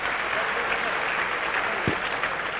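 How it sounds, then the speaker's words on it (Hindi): Loud, continuous applause fills a hall at a development forum in Bihar as an honoree receives a memento, a sustained crowd of clapping with one brief low thump partway through. "एक बार जोरदार तालियां एवरीबॉडी"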